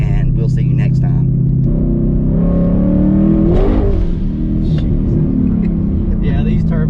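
2020 Ford Mustang GT with a Hellhorse twin turbo kit revs hard outdoors, its loud engine roar climbing and falling over a constant rumble, with voices talking faintly underneath.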